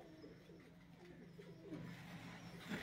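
Pigeons coo softly from cages on a rooftop, low rounded calls repeating under a quiet background hum.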